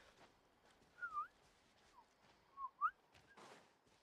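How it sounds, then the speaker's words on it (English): Faint short whistle notes come from a character in the Genshin Impact video game, several brief rising chirps scattered over quiet game ambience. "You guys hear that whistle?"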